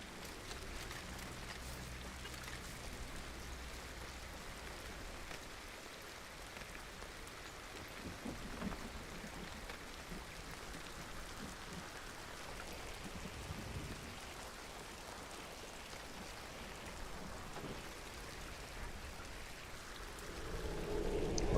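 Steady rainfall in a video game, a soft continuous patter on surfaces with faint low thunder rumbling now and then, quiet throughout and swelling slightly at the very end.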